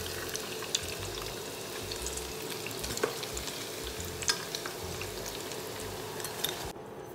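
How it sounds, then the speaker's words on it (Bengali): Potato cheese balls fry in hot oil, giving a steady, close crackling sizzle that runs throughout with small pops and bubbling and no voices. "পটেটো চিজ বলগুলা আমার সুন্দর করে ভাজা হয়ে গেছে, একটু ব্রাউন ব্রাউন কালার"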